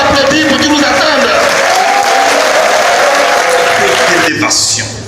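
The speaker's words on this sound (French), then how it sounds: "Il faut l'applaudir pour qu'il nous attende." A crowd at a political rally applauds loudly, dense continuous clapping with crowd voices underneath, fading out near the end.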